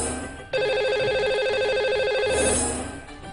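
A telephone rings with a bright, warbling electronic tone during a radio or TV phone-in show as a caller comes on the line. A single sustained ring lasts about two seconds after a soft start, with no talking over it.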